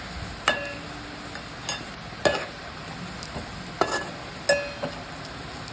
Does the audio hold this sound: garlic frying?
yes